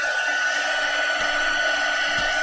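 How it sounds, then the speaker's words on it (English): A noisy hair dryer blows steadily on craft paint with a loud, even whoosh. Faint taps and knocks sound under it. "done with the noisy dryer."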